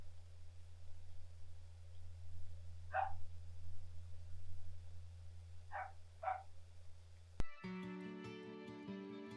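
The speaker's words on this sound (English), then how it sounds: "You can hear my neighbour's dog barking" A dog barks faintly in the distance, a single bark followed by a quick pair, over a low steady hum before music starts abruptly.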